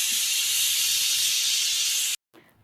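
Pressure cooker whistle releasing steam while cooking, a loud continuous hiss that holds steady for about two seconds then cuts off abruptly, with a brief faint puff afterward.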